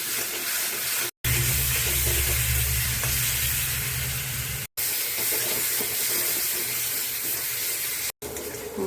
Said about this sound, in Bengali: এখন মশলাটা ভালো করে ভেজে নেব।